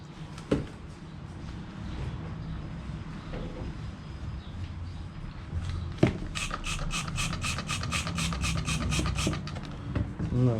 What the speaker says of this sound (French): comme ça, je te frotte. Je te frotte et puis il y a du dégraissant.